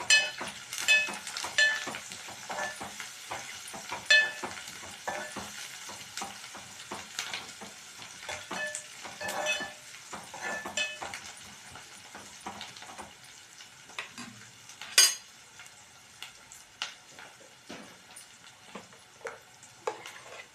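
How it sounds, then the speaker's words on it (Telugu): Ginger garlic paste frying in a pan for an aloo curry, a steady crackling sizzle broken by scattered sharp spits and pops and a few louder spatters, with no voices. "అల్లం వెల్లిపాయ పేస్ట్ వేసి అది కొంచెం 2 నిమిషాలు మగ్గిన తర్వాత"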